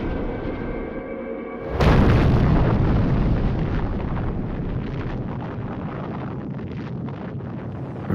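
A nuclear bomb detonation in old archive footage: a sudden, massive broadband blast arrives after a quieter tonal hum, then rolls on as a long, loud rumbling roar that slowly eases without fading out.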